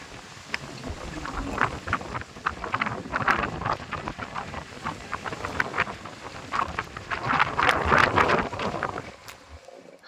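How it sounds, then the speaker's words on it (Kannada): Strong wind gusts across a rooftop terrace on a cloudy day, buffeting the microphone in uneven surges and roars that rise and fall, with no speech. "ತುಂಬ ಗಾಳಿ ಇದೆ."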